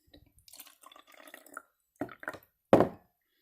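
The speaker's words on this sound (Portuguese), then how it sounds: "Vou colocar no meu nível 2 a água." Water pours briefly into a measuring container during a home chemistry experiment with vinegar and hydrogen peroxide, heard as a few short close splashes and gurgles, with a louder final pour near the end.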